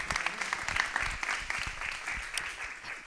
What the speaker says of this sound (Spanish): Entonces, un gran aplauso a Santiago